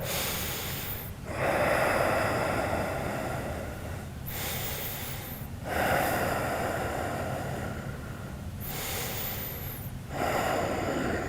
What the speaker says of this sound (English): Take 3 more breaths here.